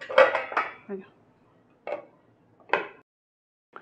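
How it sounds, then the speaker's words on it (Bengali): A lid goes onto a cooking pot with a few distinct metallic clanks and taps, spaced out over a few seconds, close and clear against a quiet background. "এইভাবে এটাকে আমি চাপা দিয়ে রান্না করবো"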